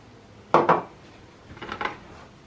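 A hand squeezer presses half a lemon, giving two short clusters of close metallic and plastic clacks and squeaky grinding, separated by a brief quiet pause.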